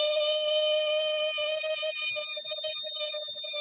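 A voice imitates a Prius straining while towing a tiny house with a thin, steady, high-pitched whine that holds for several seconds, wavering slightly and fading a little toward the end, close and with no other sound.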